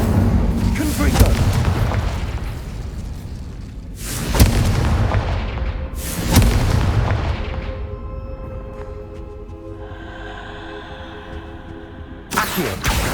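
Confringo blasting spells exploding in the video game Hogwarts Legacy: a rolling series of heavy booms, three big blasts that each decay slowly, then a fainter tonal hum before another sharp burst at the end, with speech present.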